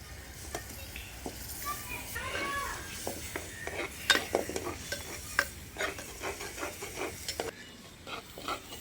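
A ladle stirs a fish and brinjal curry in a pan, making repeated scraping clinks and taps against the metal over a soft sizzle, fairly quiet and close.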